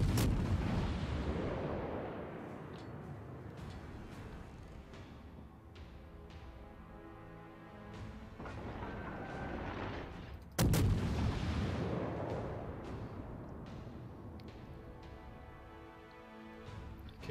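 Heavy naval guns fire from a warship in World of Warships, two booming salvos roughly ten seconds apart, each followed by a long rolling decay and echoing rumble.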